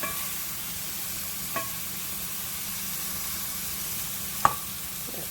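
Squash sautés in a hot pan with a steady, even sizzle and hiss throughout, broken by a couple of brief utensil clicks and taps near the pan, with no talk over it.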